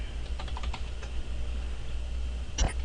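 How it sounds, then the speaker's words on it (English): Computer keyboard typing a command into a Cisco router configuration, a few quick soft clicks in short bursts followed by a sharper final keystroke, close and alone. "So here we want to type in copy TFTP running config."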